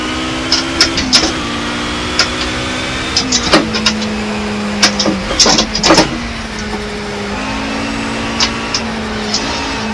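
A racing car engine in the video game Project Cars hums at a steady pitch, shifting and rising at times, with sharp clicks and knocks popping in over it.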